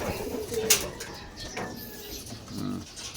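Racing pigeons kept in a loft give a few soft, low coos amid faint background noise, with one brief sharp chirp or click early on; the calls are quiet and close, with no talking.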